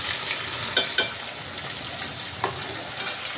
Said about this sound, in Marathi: आता या आलं लसूण आणि कोथिंबीर याचा पेस्ट टाकूया.